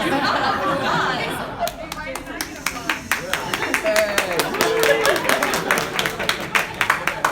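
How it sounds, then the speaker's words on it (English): Audience applause at a Chicago 2019 conference session, steady clapping building over crowd chatter and light laughter, with voices talking over it throughout. "Oh, applause. Ooh, applause."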